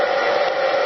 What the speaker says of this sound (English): I'm going to use a hair dryer to simulate the temperatures outside